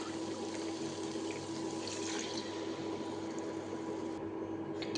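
Water pours steadily into a cooking pot being filled for jeera rice, a continuous close splashing wash that runs unbroken with no talk.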